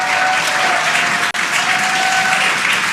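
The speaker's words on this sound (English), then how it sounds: "You can hear the crowd here." A crowd watching the Dragon Freedom capsule descend on its drogue parachutes toward splashdown breaks into steady applause and cheering, a dense continuous clapping with a brief dropout midway.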